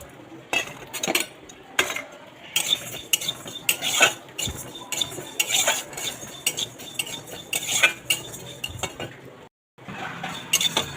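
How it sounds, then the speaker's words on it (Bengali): Mung dal stirred and dry-roasted in a hot wok, with frequent metallic scrapes and clinks of a spatula against the pan in uneven bursts, close by, with a faint sizzle beneath and a brief pause near the end. "মুগের ডালটা ভাজা হচ্ছে"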